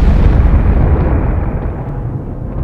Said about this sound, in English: blasted by a violent explosion, a supernova